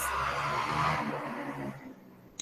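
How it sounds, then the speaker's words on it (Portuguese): Motorcycles passing in the street outside during a lesson, a loud engine roar that sweeps past and fades away over a couple of seconds, ending with a short bump. "Você está dando para ouvir as motos aí."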